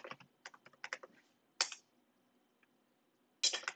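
Keys clack on a computer keyboard as terminal commands are typed, in quick close bursts of taps separated by short pauses, with a last flurry at the end.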